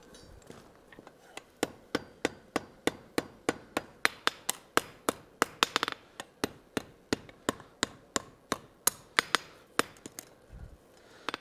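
Steady, evenly paced hammer blows ring out on hot iron at an anvil while a trivet is forged, roughly three strikes a second with sharp metallic clanks and a brief pause midway.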